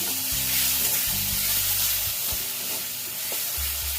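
Chili powder, coriander powder and Kashmiri chili powder fry in a pan with ginger-garlic for a fish curry, producing a loud, close, continuous hiss with a low background drone and a few faint knocks, with no talking.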